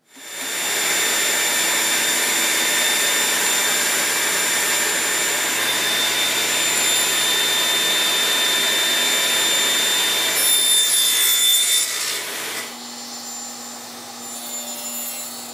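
Radial arm saw cutting wood miters for picture frames against an auxiliary fence, a loud steady motor whine with a cutting roar running about ten seconds, then the motor winding down and fading.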